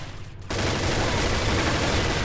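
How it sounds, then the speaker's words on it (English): Rapid, dense gunfire fills a shooter video game, starting after a brief quieter half-second and then continuing as a loud, unbroken fusillade. "Shooting at me from behind?"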